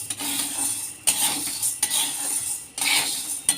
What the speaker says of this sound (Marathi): डाळ पण मी इथे मंद गॅसवरच भाजत आहे